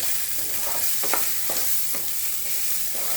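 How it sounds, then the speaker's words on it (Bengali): Raw rice being stirred in a pan of hot oil left from frying onions for chicken tehari, with a steady close sizzle and a few sharp scraping strokes of the spoon, no voices. "আমি এই বেরেস্তা ভাজার তেলেই চালটাকে জাস্ট হালকা একটা কোট করে নেবো"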